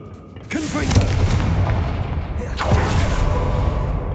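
A Confringo explosion spell cast in Hogwarts Legacy: two heavy booming blasts, each with a sharp onset that settles into a sustained rumbling roar, close and loud.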